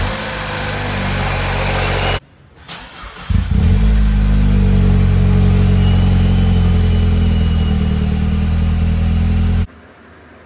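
The engine of a 2012 MINI Cooper S R60 ALL4 cranks and catches after a short quiet gap, then settles into a loud, close, steady idle with a faint rev before cutting off near the end.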